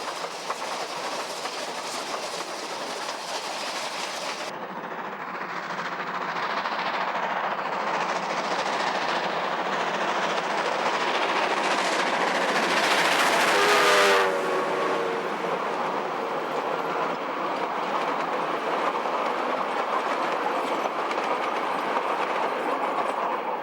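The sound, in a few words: steam train on the Otago Central railway, New Zealand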